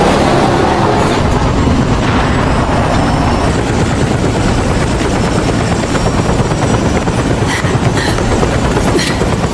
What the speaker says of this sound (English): the chopper down at the market square.